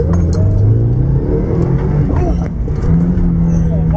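A Mitsubishi Galant VR4 engine revs under turbo boost in first gear after a fuel pump install, a loud, close, continuous drone with rising and falling pitch and a voice talking over it.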